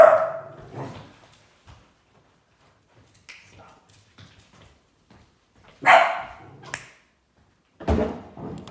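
A small dog barks inside a house, a few sharp barks spread across the stretch with quiet gaps between, close and fairly loud, alongside a person speaking.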